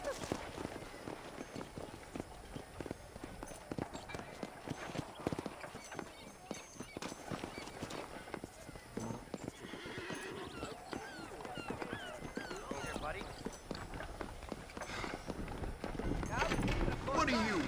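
A horse gallops away in the Western video game Red Dead Redemption, with steady, fairly quiet clip-clopping hoofbeats running throughout and game voices in the background.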